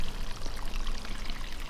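Water poured from a can onto potted plants makes a steady, continuous splashing and trickling, close and unbroken, with no talk.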